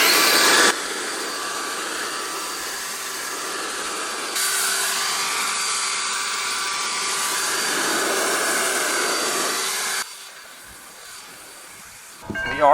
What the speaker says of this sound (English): I have another air dryer specifically for cars